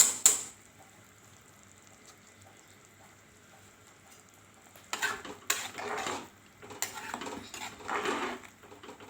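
Soaked, washed and drained rice tumbles into a pot of boiling water for vegetable pulao, making several rustling, splashing bursts after a quiet simmering stretch.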